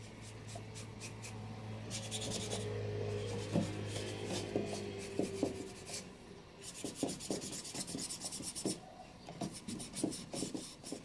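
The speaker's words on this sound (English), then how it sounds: "Okay, the distressing is done." An old wooden stool being distressed by hand-rubbing, giving irregular scraping and rasping strokes that come in quick bursts, close and moderately loud, with no talking.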